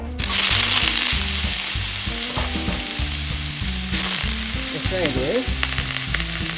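Burdock root stir-fries in hot sesame oil in a frying pan, with a loud, constant sizzle and repeated rhythmic tossing and scraping nearby, and no voices.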